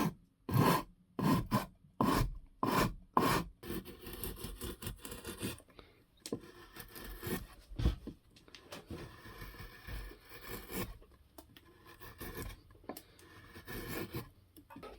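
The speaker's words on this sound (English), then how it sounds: "I get to use my brand new Shinto file." A Shinto rasp carves the bevels of a wooden guitar body. It opens with several loud, evenly spaced rasping strokes, then gives way to quicker, lighter scraping and rubbing close by.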